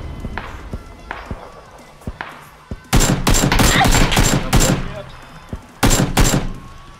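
Gunfire in PUBG, with scattered single shots and thuds, then loud rapid bursts of automatic fire in two clusters, close and sharp, under intermittent Russian voice chat.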